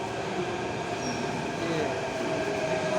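Delhi Metro train pulling into a station platform, a loud steady rumble of the rail cars with a faint wheel squeal and hum, continuous and close, with a crowd murmuring beneath it.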